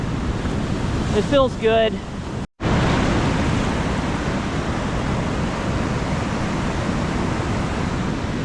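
Breeze and surf on an open ocean beach near Westport, Washington, at high tide make a steady, loud wash of wind and breaking waves, with a brief spoken remark near the start.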